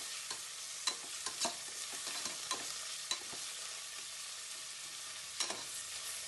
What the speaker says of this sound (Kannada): ಇದೆಲ್ಲ ಚೆನ್ನಾಗಿ ಫ್ರೈ ಆದರೆ ತುಂಬ ಚೆನ್ನಾಗಿರುತ್ತೆ.